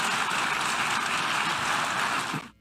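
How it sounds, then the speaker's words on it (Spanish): Applause from delegates filling the United Nations General Assembly plenary hall, a dense steady wash of many hands clapping at once, held loud for over two seconds and then cutting off abruptly. "Con estos aplausos ratificó el plenario de las Naciones Unidas su respaldo a Ecuador"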